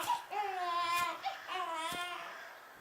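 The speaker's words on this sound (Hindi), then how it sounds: "अब इतने घने जंगल में किसका बच्चा रो रहा है?" A baby wails in a dense forest in two clear, drawn-out crying bursts, loud and close, used as an eerie ghost-story effect with no talk over it.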